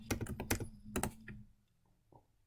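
Several quick keystrokes clatter on a computer keyboard as a date is entered, a short close burst of taps that thins to a couple of isolated clicks in a quiet room.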